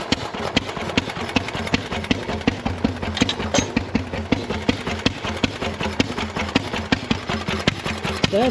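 A homemade tractor built around a Fairbanks Morse engine starts and settles into a steady, loud, rhythmic chugging, each firing beat sharp and evenly spaced close to the microphone.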